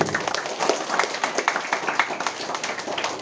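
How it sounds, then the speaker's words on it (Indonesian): Applause fills a hall for the neighbourhood head at a Halal bihalal religious gathering in a prayer house, dense steady clapping from many hands, close and continuous with no talk over it. "Tepuk tangan untuk Pak RT"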